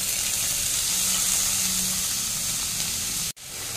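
Beans and capsicum frying in a pan, giving a steady close hiss and sizzle that cuts off abruptly near the end, then resumes.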